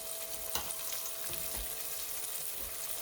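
Chicken pieces for chicken marsala fry in a pan with a steady, close sizzle, a constant crackling hiss marked by a few soft pops and thumps, and no voices.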